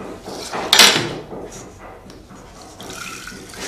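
Water from soaked lentils splashes as it is poured off into another pot, a loud burst of pouring at first that settles into lighter trickling and faint clinks.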